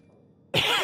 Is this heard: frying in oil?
no